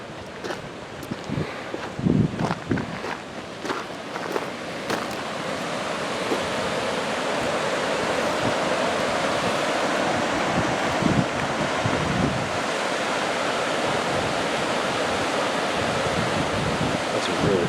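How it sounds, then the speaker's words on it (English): A river flows outdoors with a broad, steady rush of water, mixed with wind buffeting the microphone and some handling knocks in the first few seconds. "That's a really pretty river."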